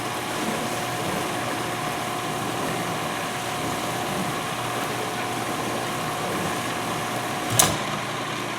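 A 1991 GE Potscrubber dishwasher runs with a steady, even mechanical hum and whir, loud and constant throughout, with one brief sharp click near the end.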